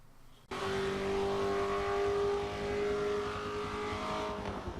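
A Mazda 124 engine in a racing video game revs in a loud, sustained drone that starts abruptly after a short pause and holds a steady, slightly wavering pitch to the end.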